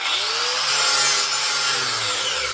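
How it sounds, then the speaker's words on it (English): A lawnmower blade being sharpened with a power tool, giving a steady, loud grinding rasp that runs continuously close by with no talk. "I'm just gonna sharpen this lawnmower blade."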